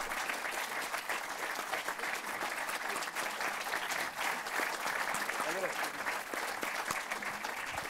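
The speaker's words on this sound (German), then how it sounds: "Begrüßen Sie mit großem Applaus Peter Kurz" A crowd applauds steadily to welcome actor Peter Kurth at an evening event in Frankfurt, dense continuous clapping from a large audience throughout.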